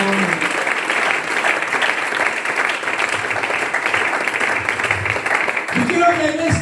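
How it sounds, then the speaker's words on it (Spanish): Church congregation in Vallecas applauding during an inauguration service, a sustained wash of clapping with a voice speaking over it and a brief tonal sound near the end. "Denle ese aplauso al Señor, hermano, en esta hora."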